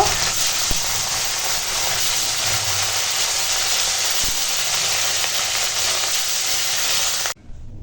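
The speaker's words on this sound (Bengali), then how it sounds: "বাকি মাছগুলো সব ভেজে নেব" Pieces of rohu fish fry in hot oil, giving a loud, steady sizzle and hiss that carries on without a break, then cuts off abruptly near the end.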